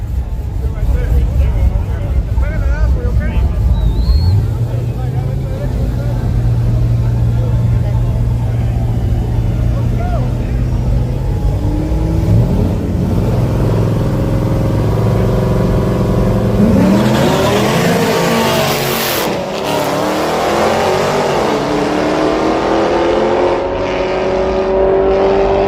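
Drag racing cars launch and accelerate hard down a strip at a street tires versus turbo event, a loud sustained engine roar with rising revs and a sweeping pass late on, under crowd chatter and announcer talk.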